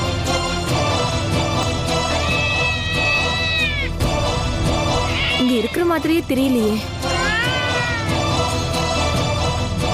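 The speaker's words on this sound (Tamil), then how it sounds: "இந்த பூனை அழற சத்தம் எங்க இருந்து வந்துட்டு இருக்கு?" A cat meows in drawn-out, wavering cries, with one strained caterwaul partway through, amid background music and a TV-drama scene; a person speaks over it.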